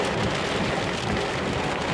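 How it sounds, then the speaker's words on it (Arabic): Heavy rain pours steadily during a storm and flooding in Riyadh, a dense, constant hiss of water with a faint low rumble underneath and no voices. "أمطار وسيول الرياض"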